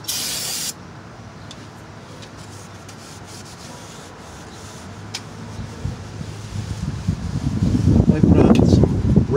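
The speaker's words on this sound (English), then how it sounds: "Wipe it off with some brake clean." Brake cleaner sprays onto a clutch pressure plate, a short hissing burst at the start followed by rubbing and wiping noises that build louder toward the end.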